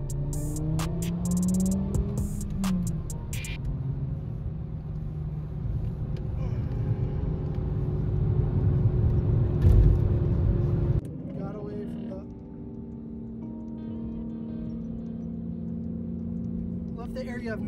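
A car engine rumbles in a low, steady drone while driving with Toronto's underground car scene. Sharp beeps come near the start, and the engine tone shifts partway through as the car keeps moving.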